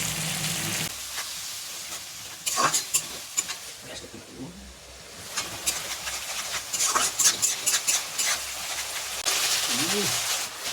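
Spice paste for a new-potato curry is stirred in a pan with a little water added. It hisses and sizzles softly, with intermittent scraping bursts and a faint voice at moments.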